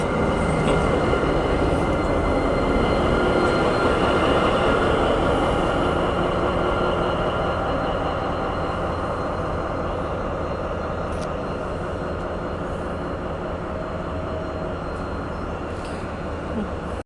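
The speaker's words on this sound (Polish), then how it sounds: "Idzie lokomotywa." A train rumbles past Warsaw Wschodnia station with a loud, continuous roar and clatter of wheels on rails, gradually easing slightly toward the end.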